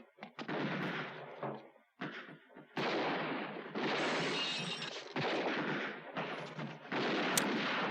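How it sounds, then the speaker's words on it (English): Uzi submachine gun fire in a 1982 film scene, rapid bursts of loud shots in several long volleys with short gaps, sharp and close. "Nirvana switches to an Uzi submachine gun."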